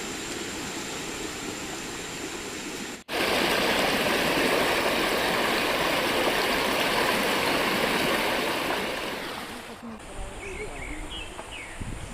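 River water flows at a raw riverside campsite in Nagcarlan, Laguna, a steady, full rushing wash close by that cuts briefly, returns louder, then softens toward the end as faint bird chirps appear.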